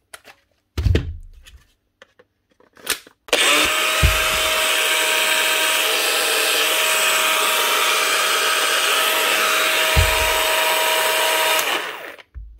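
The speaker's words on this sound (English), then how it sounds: "One Bosch grinder. GWS 18V/10, up and running again with one new bearing flange." A Bosch GWS 18V-10 cordless angle grinder, running again after a new bearing flange was fitted, starts up and holds a loud, steady high-pitched whine for about eight seconds, then spins down, after a few clunks from handling.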